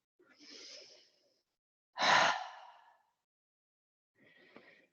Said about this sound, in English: Breathe into the belly.